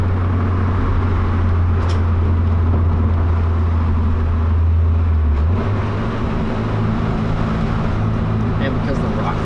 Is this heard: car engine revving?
yes